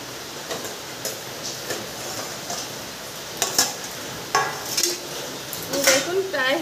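A metal lid lifted off a cooking pot holding a prawn and egg dish, with several clattering metal knocks and scrapes close by over a steady background hiss, the sharpest clanks near the end.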